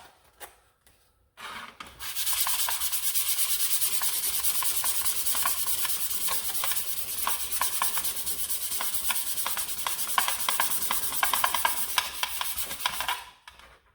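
Hand sanding paint off a shell, a loud, continuous scratchy rubbing with quick back-and-forth strokes that starts after a brief quiet moment and stops abruptly, with no talking.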